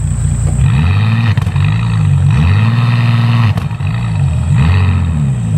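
A Bentley Continental SuperSports exhaust revs repeatedly in neutral, held below about 2,000 RPM. Loud, close engine note rising and falling in several blips over a steady idle, with no talking.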